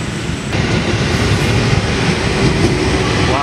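A Tokyu 8500 series commuter train in new livery passes at a station, a loud, continuous rumble of wheels and motors with rail clatter, heard close and steady throughout.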